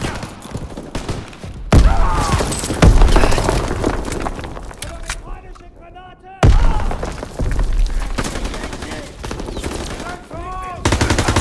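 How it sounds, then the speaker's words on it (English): Game explosions and gunfire on a World War II beach landing in Call of Duty WWII, with loud booms and bursts of rifle and machine-gun fire, dense and continuous, with shouting voices mixed in. "Grenade!"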